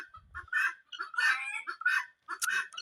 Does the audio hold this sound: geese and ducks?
yes